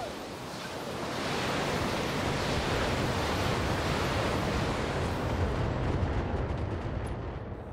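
Mech in a video game unleashing all its weapons at once, including LRM missiles, a dense roaring barrage of launches and blasts that swells quickly and holds loud and continuous for several seconds.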